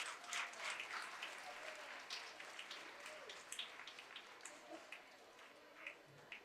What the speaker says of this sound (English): a very big applause from everybody